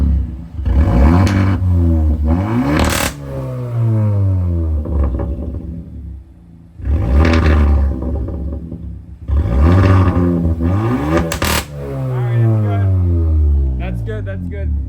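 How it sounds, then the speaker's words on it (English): A Hyundai N-Line car started cold with no exhaust fitted roars through several loud revs, each climbing sharply and falling back, with brief lulls between bursts and a rattle at the close. "But let's give it a cold start right now with no exhaust and see how that sounds."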